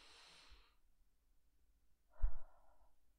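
Slow, relaxed breathing close to the ear: a soft breathy exhale fading out, a pause, then a louder, brief inhale or sigh.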